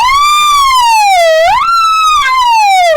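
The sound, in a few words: singer's vocal siren warm-up imitating a siren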